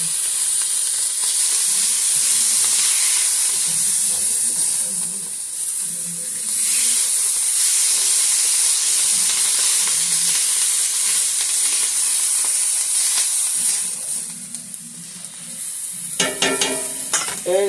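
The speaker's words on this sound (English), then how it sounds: "We want to make sure that our meat is cooked all the way through." Meat for stuffed shells fries and sizzles in a pan, a loud steady hissing sizzle with scraping stirs throughout, close up, and a clatter of utensils near the end, with no talking.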